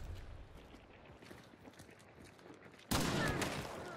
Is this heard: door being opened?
no